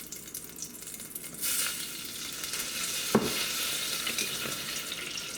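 Butter melts in a saucepan with a soft, steady sizzle, stirred at times, joined by one brief clink near the middle, close and fairly quiet, with no talk.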